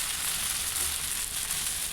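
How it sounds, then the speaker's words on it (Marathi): Amaranth leaves sizzle in hot oil on a flat iron tawa, a steady, dense hiss of frying that carries evenly throughout, close and moderately loud with no voices. "हे आपण निवडून स्वच्छ धुवून घेतलेली भाजी मी या तव्यावर परतून घेणार आहे"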